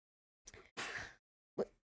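A sneeze from someone in the background during a game session, short and fairly faint: a brief intake, a broader burst, then a second smaller burst after a pause.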